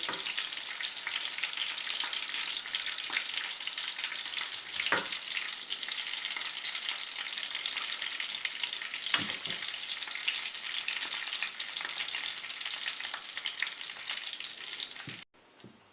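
Steady, loud sizzling of salmon frying briefly in a hot pan, continuous crackle with a few spits, ending abruptly.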